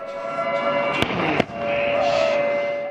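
Two sharp, loud pyrotechnic blasts from a military display at the 2019 Australian International Airshow cut through a steady droning roar of aircraft engines.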